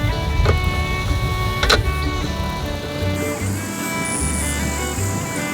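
A screwdriver turns screws into an Architectural Mailboxes Hamilton Post and Ironside mailbox, a steady mechanical whirring drone with a couple of sharper clicks, loud and close, with no speech.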